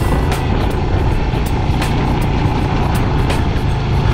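Continuous buzzing whir of a small camera drone's propellers, steady and fairly loud, with faint ticking transients and no voices.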